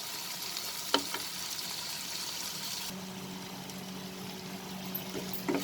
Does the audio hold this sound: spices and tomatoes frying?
yes